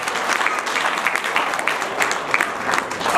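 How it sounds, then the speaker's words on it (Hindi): Loud, dense applause fills a hall at a Hindi poetry recital, a steady roar of many hands clapping close by without a break. "एक बार जोरदार तालियां बजाइए"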